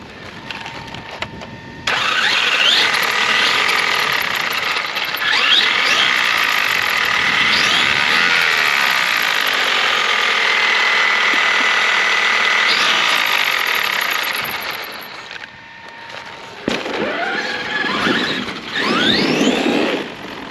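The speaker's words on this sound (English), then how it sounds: "Yeah, we blew something, a diff, a tire. We got some gear noise going on." A Traxxas X-Maxx RC truck with a damaged differential whines and grinds loudly as its motor revs up and down in long bursts, with rough gear noise, a short lull and then more revving.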